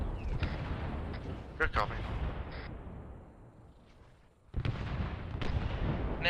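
Artillery fire in Arma 3, a wartime operation with troops sheltering in a rock formation: repeated heavy booms and rumbling impacts, with a brief quieter lull before the barrage resumes, under radio chatter and voices.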